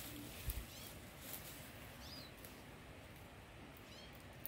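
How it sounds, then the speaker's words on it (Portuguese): Small birds call faintly outdoors at a garden planting spot, giving a few brief, thin chirps that sound like a cat's meow, spread out over a quiet background. "Tem uns passarinhos que faz barulho"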